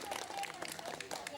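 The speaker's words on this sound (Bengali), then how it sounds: "দারুণ এঁকেছে, হাততালি দাও চলে।" Children clap for a drawing at a Republic Day celebration, a brief, faint patter of scattered handclaps with a voice in the background.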